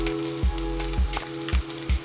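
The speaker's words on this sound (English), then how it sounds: "You definitely can jack yourself up frying food." Speckled trout frying in a pot of hot grease, a steady close sizzle with a few louder pops at regular intervals, no voices.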